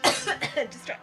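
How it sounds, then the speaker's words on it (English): A single sharp cough, close and loud, followed by a few rapid short vocal bursts, heard during a tabletop fantasy game session. "You cough to distract it."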